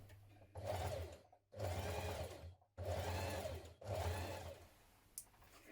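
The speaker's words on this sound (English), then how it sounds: "we're now going to top stitch it" A sewing machine top stitches the pockets of a simple unlined spring jacket, running in four steady bursts of close, even stitching, each separated by a short pause.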